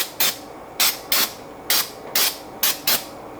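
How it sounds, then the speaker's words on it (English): Brake cleaner sprayed onto a clutch pressure plate during an MK3 12V VR6 clutch install, heard as seven short, close hissing bursts in an uneven rhythm, each about a quarter second, with quiet gaps between. "Alright, we're going to spray her on down,"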